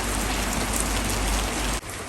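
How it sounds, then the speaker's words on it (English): Heavy rain pours down outdoors at a boatyard haul-out, a dense, steady hiss of falling water that continues without a break until it cuts off abruptly near the end. "the rain is persisting down"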